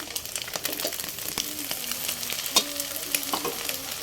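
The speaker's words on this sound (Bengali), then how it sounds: "দেখছেন টমেটোগুলা কি সুন্দর করে দিয়ে দিচ্ছি ডিমের সাথে" Chopped tomatoes frying with egg in a pan, with a soft continuous sizzle broken by scattered spatula scrapes and taps, close and moderately quiet.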